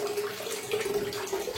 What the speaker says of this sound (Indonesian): Terus saya nyalakan water heater yang ini keran yang khusus air panas ya.